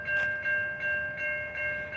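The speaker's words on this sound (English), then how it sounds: "But you can watch a train go by." A train rolling past a running path in Chicago, a steady rumbling hum with a tonal whine and pulsing swells as cars pass nearby.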